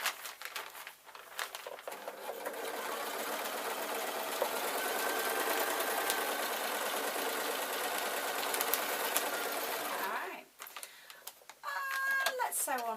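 A sewing machine runs in a long steady stitching burst, sewing binding onto a lined waistcoat with a collar, then stops briefly and restarts with a few short runs near the end.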